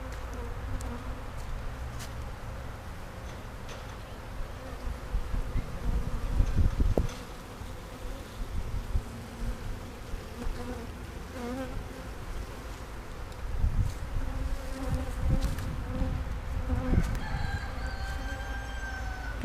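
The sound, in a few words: honey bees buzzing at a strong hive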